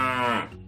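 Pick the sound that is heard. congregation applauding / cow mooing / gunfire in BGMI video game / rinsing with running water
cow mooing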